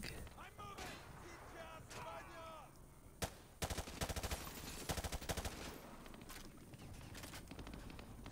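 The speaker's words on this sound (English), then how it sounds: "This gun shoots so smoothly," Gunfire in Call of Duty Modern Warfare 2 Remastered, with rapid bursts of automatic shots clustered in the middle and scattered single cracks, set against game background sound and a person talking early on.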